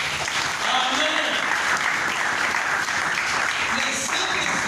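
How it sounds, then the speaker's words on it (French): Congregation applauding in a church service, sustained loud clapping from many people filling the space, with a voice speaking over it. "Et applaudissons notre Dieu."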